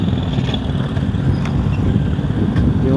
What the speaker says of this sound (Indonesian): Anginnya lumayan nih, lumayan angin deras sama kencang ya.